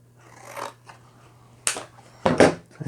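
Scissors snip through material at close range in a few separate short bursts, each a brief crisp cut with quiet pauses between them and a steady low hum underneath.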